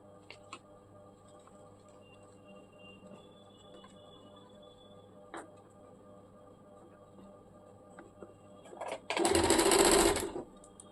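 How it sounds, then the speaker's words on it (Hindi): Sewing machine stitching the leg of a salwar, a short loud burst of rapid mechanical whirring near the end after quiet room noise and faint ticks. "इसी प्रकार से दूसरे पैर का भी हम लोग सिलाई कर लेंगे।"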